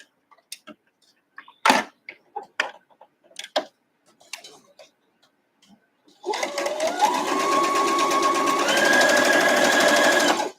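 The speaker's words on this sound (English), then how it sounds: "now I'm going to sew down this edge with my 1/4 inch" A sewing machine stitches the edge of a quilt block with a quarter-inch seam, starting after a few scattered clicks and handling noises and then running loud and continuous at a steady fast pace, picking up speed partway.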